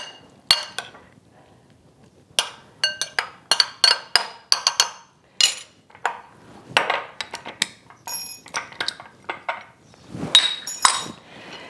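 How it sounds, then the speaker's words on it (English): A spoon scrapes and clinks against a dish while stirring a pineapple and cottage cheese parfait. Sharp metallic taps come in irregular clusters over about ten seconds, close and clear with no talking. "And I'm going to stir this up."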